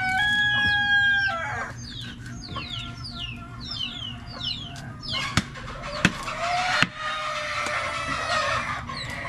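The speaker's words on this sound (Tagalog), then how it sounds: "Daming manok Daming manok mga idol." Numerous chickens cluck in a busy farmyard while roosters crow, with several drawn-out crows near the start over constant background clucking, plus a few sharp knocks later on.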